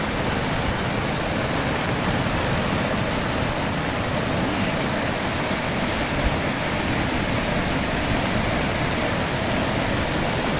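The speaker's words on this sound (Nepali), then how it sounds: "खोलाको बहाव हेर्नु होला" The swollen Rapti river in Hetauda, high after flooding and breaching a bypass embankment, rushes with a loud, dense, unbroken roar of turbulent water that stays constant throughout, with no voices.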